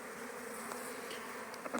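Honeybees buzz close by as an elderly keeper's weakened hive is opened for a spring inspection, a dense continuous drone with small fluctuations as individual bees pass near.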